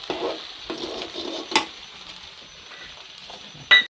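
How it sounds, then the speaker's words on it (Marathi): Rice being stirred and mixed with red chilli sauce in a pan, giving soft scraping and stirring sounds, with a few louder utensil scrapes and a sharp clink near the end. "आता राईस मिक्स करून घ्यायचं आहे."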